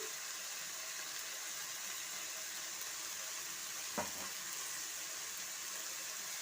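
Spice paste with salt, turmeric and green chilli frying in oil for a folui fish curry, a faint, steady sizzle with a single brief clack of a utensil midway, no voices.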